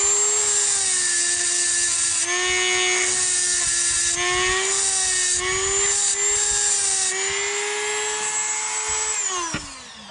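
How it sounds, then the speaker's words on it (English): A Dremel rotary tool grinds a notch into a metal gib, giving a loud, high-pitched whine whose pitch shifts slightly as it bites into the metal, then spinning down at the end. "go ahead and use my Dremel here to grind that notch a little bit"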